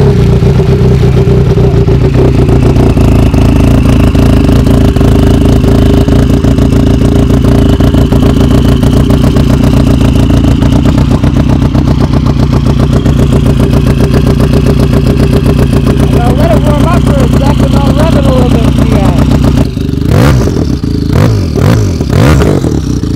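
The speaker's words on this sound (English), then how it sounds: "this is my sled here, and we're gonna start it up" A classic Honda trike engine, close and loud, runs at a steady clattering idle for a long stretch, then blips and revs briefly near the end.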